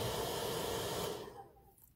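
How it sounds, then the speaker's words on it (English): A hair dryer blows with a steady, breathy roar for over a second, then cuts off and fades to quiet. "we're drying this with my beautiful, beautiful hairdryer"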